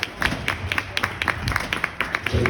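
A small audience at a participatory workshop session gives a round of applause, with distinct, fairly sparse claps landing irregularly and close by, rising to a denser burst at the end.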